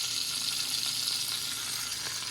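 Butter sizzles as it melts in a pan on the stove, a continuous close, even hiss with faint crackles and no voices over it.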